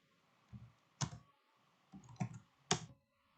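A computer keyboard gives a few sparse, separate key clicks while a network-configuration command is typed at a command prompt, close and quiet, with silence between presses.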